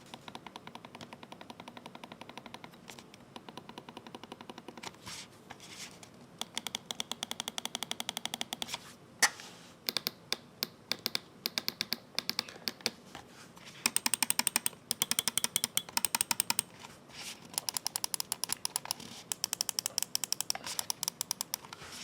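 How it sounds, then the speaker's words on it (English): Scroll wheel of a Logitech Pro X Superlight 2 DEX gaming mouse being spun, giving bursts of soft, rapid ticking in irregular runs with short pauses, close and fairly quiet, no talking. "You can definitely hear that the Logitech is just very, very silent on the scroll wheel."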